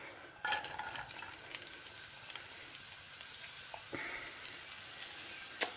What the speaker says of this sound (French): Donc je vais mettre mes petits oignons dans l'huile.